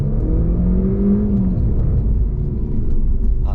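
Engine of a Mercedes C200 with a 1.5-litre turbo, driven in Sport Mode, swells as the car accelerates and then settles into a steady rumbling cruise, heard close from inside the cabin with no talk.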